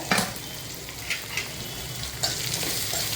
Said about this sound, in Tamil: நான் போட்டு நல்லா வதக்கலாம்.